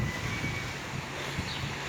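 A strong lodos windstorm sweeps through a flower garden in Mersin, its gusts buffeting the microphone as a quiet, steady rushing with small rumbling swells and no voices.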